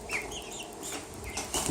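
Young chickens, about six weeks old, clucking and shuffling in their pen, with soft scattered calls and brief wing flutters close by and a louder burst near the end.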